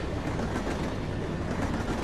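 A train with a tanker car rolls along in The Bouncer, a steady dense rumble of wheels and rattling carriage, loud and continuous with no voices.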